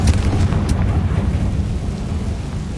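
A Confringo fire spell explodes in Hogwarts Legacy on PS5, a loud, deep rumbling blast that swells at once and rolls on for a few seconds with a crackling, thunder-like tail.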